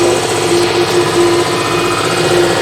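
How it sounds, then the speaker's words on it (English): A 2005 Honda Odyssey engine runs steadily with its A/C compressor engaged, giving a loud, close, even mechanical drone with a faint pulsing hum throughout. "Compressor, of course, comes on."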